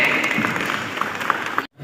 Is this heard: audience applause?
yes